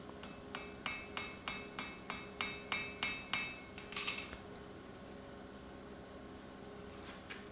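Hammer blows forge-welding an iron Anglo-Saxon stirrup on an anvil, about fourteen sharp ringing strikes in a steady rhythm over four seconds, then quiet workshop hum.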